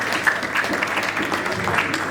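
An audience at a Vijay Diwas gathering of the Loktantra Senani Sangh claps to welcome a guest, a short burst of moderately loud applause with a few sharper hand claps standing out.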